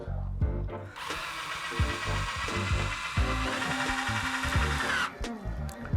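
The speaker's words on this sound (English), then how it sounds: "Now flip the kit over and you're going to insert screws." A power driver sinks screws into a car stereo dash kit for a Honda S2000, a loud, sustained whirring drive of about four seconds, bracketed by brief clicks and handling knocks at close range.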